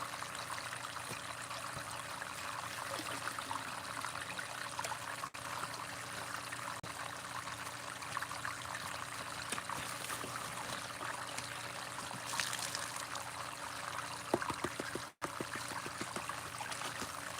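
Fresh water pours and trickles in a steady stream while gold-rich material is processed at an outdoor North Carolina dig. The flow runs continuously, close and moderately loud, with no talk over it.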